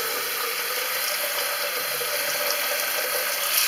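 Tap water runs steadily into a clogged bathroom washbasin that drains poorly, a continuous close hiss and trickle throughout with no talking.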